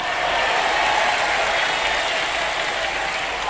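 An audience applauds during a religious sermon, a dense, steady wash of many hands clapping that holds at full, even loudness for a few seconds.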